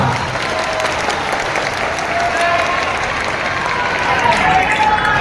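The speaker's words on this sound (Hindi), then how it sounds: "एक बार जोरदार तालियां बजरंग दल के लिए लगा।" A large crowd claps loudly and steadily at a Hanumant Katha religious gathering for Bageshwar Dham, the applause dense and sustained throughout with no letup.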